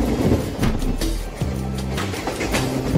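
Howrah–Kathgodam Bagh Express train running on the rails, a loud, steady rumble with rhythmic wheel clatter and low mechanical hum, heard close and continuous.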